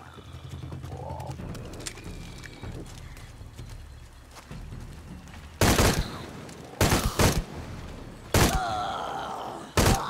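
Gunfire erupts in Shadow of the Tomb Raider, loud bursts of rapid shots in several separate volleys after a stretch of quieter game ambience with thuds and creaks.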